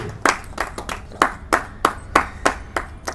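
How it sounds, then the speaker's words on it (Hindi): A small audience at a Hindi poetry gathering claps in sparse, distinct bursts, about ten sharp separate claps spread evenly across a few seconds rather than a dense roar, close and fairly loud with no voices over them. "भरपूर तालियां इसके लिए"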